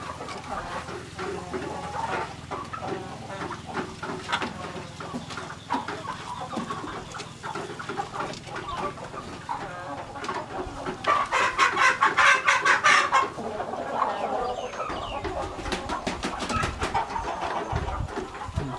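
Pradu Hang Dam native Thai chickens cluck and chatter on a farm in a continuous, moderately close flock murmur, with a louder burst of clucking near the middle.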